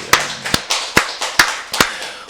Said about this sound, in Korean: 우리 살아계신 하나님께 박수를 영광 드리겠습니다